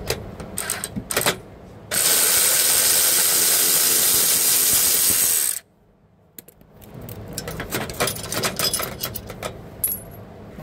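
Ratchet clicks and metallic rattling from a number 12 socket working running board bolts, with a long steady loud stretch in the middle and scattered sharp clicks before and after.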